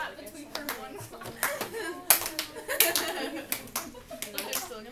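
Several children clap their hands in a classroom, scattered uneven claps close by mixed with chatter and a little laughter.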